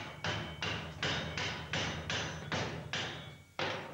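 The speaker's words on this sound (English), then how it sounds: "if I whack this with a hammer, the whole lot will fall away" A hammer strikes a seawater-corroded metal section on the Massey Shaw, giving about nine loud, evenly spaced blows in quick succession with no talking.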